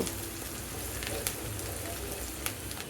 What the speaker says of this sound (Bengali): এখানে রসুন কুচি পেঁয়াজ কুচি আর কিছু কাঁচামরিচ ফালি দিয়ে দিলাম এগুলোকে একটু ভাজি করে